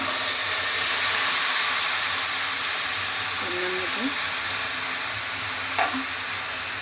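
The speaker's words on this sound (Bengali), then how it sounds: "সেমাই ভাজা হয়ে গিয়েছে, এখন আমি 1 কাপ পানি দিয়ে দিচ্ছি।" Water poured into a pan of fried vermicelli while making a sweet zorda semai dish, giving a steady broad hiss of steam and sizzling that holds throughout, with a few faint clinks and a brief voice in the background.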